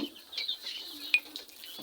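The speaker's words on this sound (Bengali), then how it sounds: "দেখেন খুব সুন্দর মুরগিগুলো" Chickens on a poultry farm give short, scattered clucks and squawks, faint and close together over a quiet background, with no one talking.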